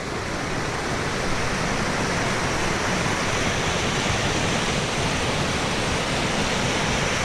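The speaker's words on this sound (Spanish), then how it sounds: "Mirad la cantidad de agua que baja en el tramo de este barranco." Floodwater rushes down a swollen ravine in a loud, continuous broadband roar that holds unbroken from start to finish, with no voices over it.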